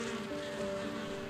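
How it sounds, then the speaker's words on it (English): Honey bees buzz among the blossoms of a California almond orchard. The hum is steady and continuous, a dense, close drone that holds without any pauses and has no voices over it. "You can hear the buzz in the orchard of the bees"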